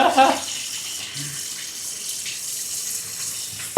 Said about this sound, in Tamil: மேல் வீட்டு பைப்பை விட கீழ் வீட்டு பைப்பில் தண்ணி கூட வருதா